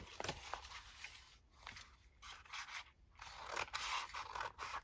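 Scissors snip roughly through paper to cut out tags, giving several close, crisp cutting strokes with papery rustle and scraping between them.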